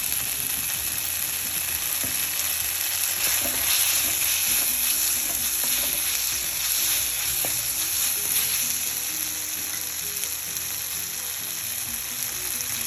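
Masala with curry leaves sautéing for mutton liver fry, a dense, loud sizzle with constant stirring scrapes and clatter close up, steady throughout with no voices.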